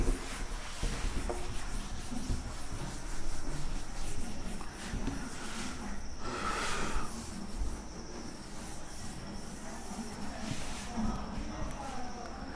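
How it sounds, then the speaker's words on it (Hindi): Writing is rubbed off a classroom board during a chemistry lesson, producing a continuous scratchy, rasping rub with uneven strokes, fairly close, while a voice talks over it. "इसको रब कर देता हूँ।"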